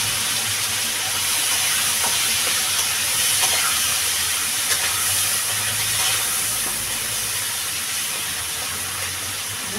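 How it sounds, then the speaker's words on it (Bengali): Crabs poured into hot oil in a Bengali village kitchen, frying for a sour crab and chalta dish, give a loud, steady hissing sizzle that holds with little change for the whole stretch. "আমার তেলটা গরম হয়ে গেছে, আমি কাঁকড়াটা ঢেলে দেবো।"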